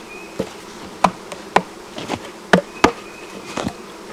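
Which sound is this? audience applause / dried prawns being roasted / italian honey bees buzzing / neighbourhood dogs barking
italian honey bees buzzing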